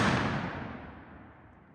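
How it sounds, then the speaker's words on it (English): A single muzzle loader rifle shot at an outdoor shooting range booms loud and close, then its long rumbling tail fades away with no voices. "Jared's getting ready to shoot his muzzle loader."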